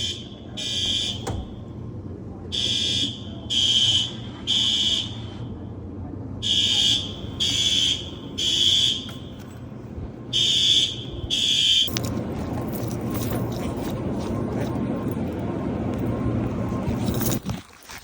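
Building fire alarm system set off by a burst fire sprinkler pipe, loud electronic tones pulsing in repeated bursts with short gaps, before a low rumbling hiss takes over near the end.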